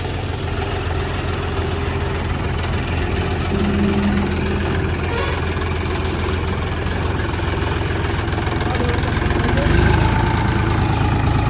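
A John Deere 5105 tractor engine idles steadily and close, a constant low rumbling drone lasting throughout with someone talking over it.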